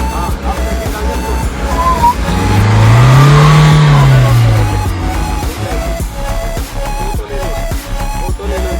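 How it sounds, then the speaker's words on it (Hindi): A Mahindra Thar 2020 with a changed differential working up off-road terrain, its engine revving hard and climbing to a loud peak before falling away to a rough, throaty drone, with voices heard faintly. "एक्सीलेटर दबा, थोड़े आरपीएम ज्यादा कर, हाँ अब सेकंड डाल दे"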